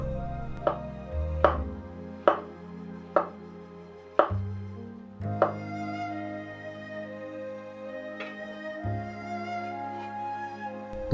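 Knife chopping mushrooms into thin slices on a cutting board while preparing Lao chicken laap, about eight sharp distinct knocks spaced irregularly over background music.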